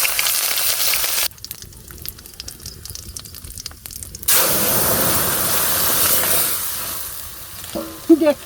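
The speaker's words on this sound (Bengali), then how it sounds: "কড়াই গরম হয়ে গেছে, এখন তেল দিয়ে নেই" Oil heating in a hot kadai for cooking dal gives loud, steady sizzling and frying close by, with stirring scrapes and a sharper spatter burst midway.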